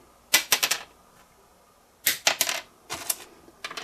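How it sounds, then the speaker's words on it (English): A small plastic guitar nut is dropped onto a hard surface and bounces a few times. It makes short, bright clicking taps in two separate runs, with no talking. "Listen very carefully. This is plastic."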